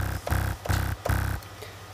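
Distorted synth bass built from three Massive oscillators stacked together, a loud, gritty, buzzing tone pulsing in three even rhythmic bursts before fading to a sustained hum.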